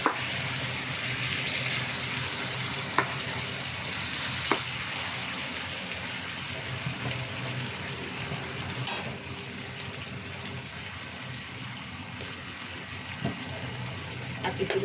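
Cubed pork and vegetables for pinakbet fry in a pan with a steady broad sizzle, broken by a few faint knocks of stirring, while a voice speaks quietly at times.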